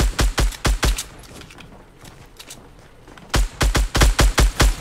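Rapid bursts of gunfire in Fortnite Battle Royale, two loud clusters of sharp evenly spaced shots separated by a quieter stretch with faint distant fire, and no talking.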